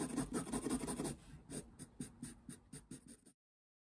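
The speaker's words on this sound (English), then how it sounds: "Now I gotta color it in pretty well." A marker or pen scratching steadily as a costume drawing is colored in, with quick repeated back-and-forth strokes, close and quiet, that stop abruptly.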